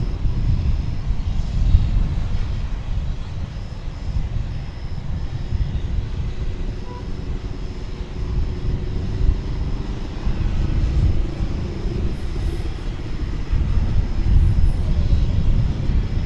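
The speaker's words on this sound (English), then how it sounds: "It is an Airbus A321 and it is going to Cancun in Mexico." American Airlines Airbus A321 departing DFW Airport for Cancun, a steady low-frequency engine rumble that rises and falls in waves, fairly loud and heard alone.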